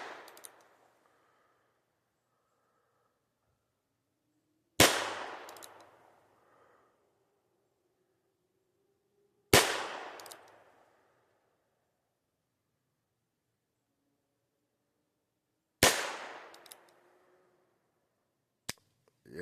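Heritage revolvers fired outdoors on Halloween: four sharp, loud shots spaced roughly five seconds apart, each trailing off in a short echo, the last one quicker after the third, with quiet pauses between.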